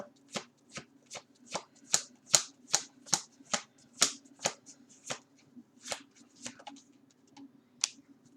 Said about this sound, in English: Then I'll shuffle, do your favorite number, and then do the other layout.